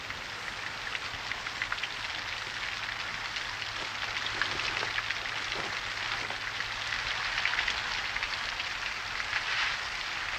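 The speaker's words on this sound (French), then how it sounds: "Je vois que vous aimez la pluie, vous aussi." Steady rain falls throughout, a dense hiss of drops pattering on a surface with scattered sharper drips, close and even with no voices.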